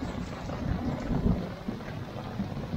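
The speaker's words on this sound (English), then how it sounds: "It's storming now." A thunderstorm over a lakeside campsite at Lake Talquin, with low rolling thunder rumbling under a steady wash of rain, continuous and fairly close throughout.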